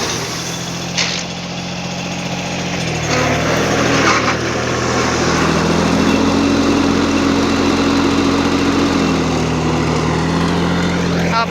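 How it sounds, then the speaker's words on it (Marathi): Tractor engine running with a crop sprayer in an orchard, a close steady drone that rises slightly in pitch and loudness after a few seconds and then holds evenly. "कसला भारी ट्रॅक्टर चालवते"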